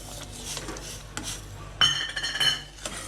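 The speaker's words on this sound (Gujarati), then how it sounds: "અને હવે આપણે સતત હલાવશું" Semolina sheera stirred in a pan with a metal spoon, giving soft scraping and a few sharp clinks and knocks against the pan, close and intermittent, with no talking.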